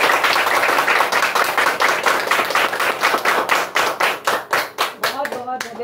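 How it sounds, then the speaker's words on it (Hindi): A school audience claps loudly in a sustained round of welcome for a guest at an Uttarakhand Foundation Day event, the claps thinning into separate hits near the end while someone briefly speaks over them. "आप सभी उनका जोरदार तालियों से स्वागत करें"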